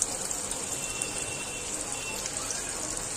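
Chopped onion sizzling in hot oil in a home kitchen pan while cooking yakhni pulao, a steady close hiss with fine crackling throughout, no talking.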